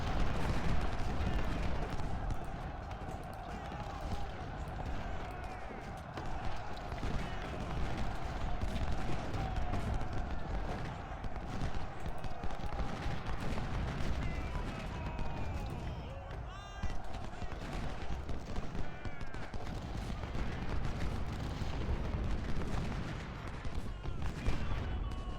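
Civil War artillery and rifle fire in the strategy game Ultimate General, a dense continuous rumble of cannon booms and musket volleys filling the whole stretch, with a voice talking over it.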